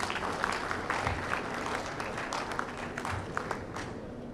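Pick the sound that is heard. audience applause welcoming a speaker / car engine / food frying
audience applause welcoming a speaker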